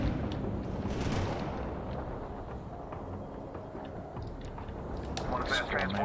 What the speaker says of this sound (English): We're shooting at them.